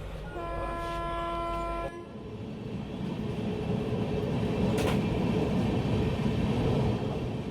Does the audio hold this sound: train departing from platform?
yes